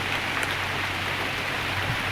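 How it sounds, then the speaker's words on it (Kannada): Light drizzle falls outdoors as a steady, even hiss of fine raindrops with no breaks, moderately loud and close. "ಮಳೆ ಬರ್ತಾ ಇದೆ"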